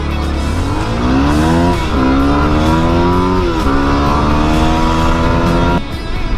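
A car drives past loudly at a motocross outing, its engine note climbing through several shifts and holding steady before cutting off abruptly near the end.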